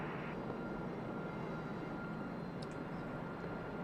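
An aircraft in a flight simulator taxis to the ramp, a steady faint engine drone and broadband rumble holding evenly throughout, with no talk over it.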